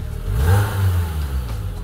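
A Slingshot three-wheeled vehicle's engine revs and accelerates, a steady loud low hum that swells and holds for about two seconds, fairly smooth and close.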